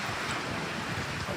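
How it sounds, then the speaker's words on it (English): Extreme wind from the remnants of Typhoon Halong in western Alaska roars as a loud, constant broadband rush right against the microphone, with no voices. "Extreme wind."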